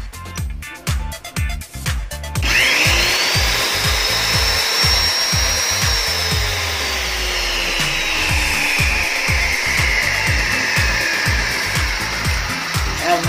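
Hand-worked enlarging of a bolt hole in a motorcycle carburetor on a Suzuki Raider 150 without a drill bit: a steady, close grinding, rasping scrape with regular back-and-forth strokes, loud and continuous after a short start.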